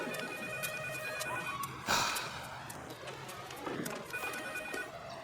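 A telephone rings in a household setting, sounding in repeated electronic trills with pauses between them and a brief louder knock partway through, no talking.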